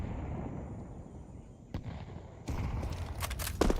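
Grenade detonation during a professional Counter-Strike match, a sharp broadband burst followed by crackling and further pops over continuous game ambience, with no talk.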